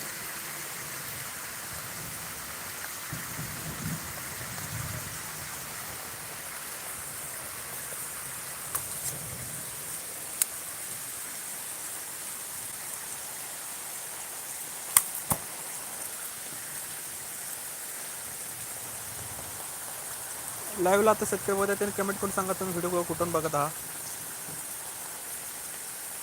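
Heavy rain falls over a grape-growing area in eastern Miraj during a thunderstorm, a steady faint hiss with scattered light ticks. Someone speaks briefly toward the end.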